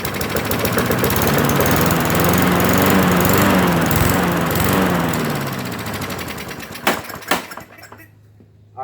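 An old lawn mower that sat unused for four years cranks up and runs loud and rough close by. The engine labors, sputters with a few sharp knocks near the end, and then cuts out to silence.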